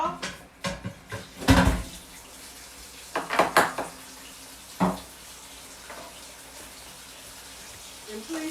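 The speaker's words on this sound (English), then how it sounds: "Okay, we're going to rinse it off." Tap water runs over broccoli in a kitchen sink in short bursts, with splashing and a few handling clunks, close and moderately loud between quieter pauses.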